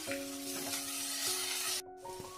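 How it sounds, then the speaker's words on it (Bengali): Spice masala with turmeric and salt sizzles and is stirred in a pan for patal rasa, a steady close hiss broken by a brief scraping pause near the end. "মশলাটা আমি ভালোভাবে কষিয়ে নেব।"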